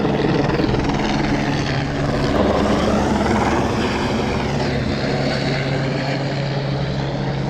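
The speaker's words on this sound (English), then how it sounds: "I'm trying to flag down the helicopter right now." A helicopter's rotor chop and engine whine roar steadily and loud, swelling slightly as it draws closer overhead.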